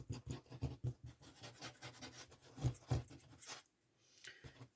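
A finger rubs glue across paper while making a shaker card, producing close, quiet scratchy rubbing strokes in an uneven rhythm that stop briefly near the end before one last faint stroke.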